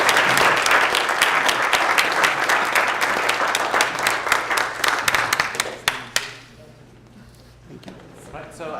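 Audience applause at the end of a chemistry lecture, dense sustained clapping from a room full of people that thins out into scattered claps and murmuring.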